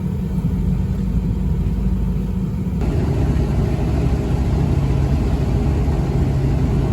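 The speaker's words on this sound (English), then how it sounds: "We're driving out on the sand." A car drives out on beach sand on the Outer Banks 4x4 beach near Corolla, its engine giving a loud continuous low rumble with steady road and wind noise, and no talk.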